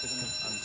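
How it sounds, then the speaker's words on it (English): A fire alarm rings steadily throughout, its sustained electronic tone filling the short moment at moderate loudness. "Oh, it's a fire alarm."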